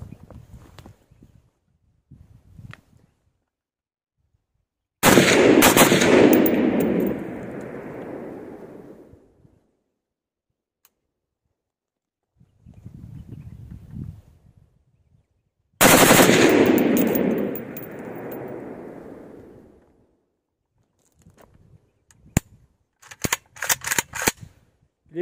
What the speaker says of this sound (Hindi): AK-47 की भी चेक करेंगे ना।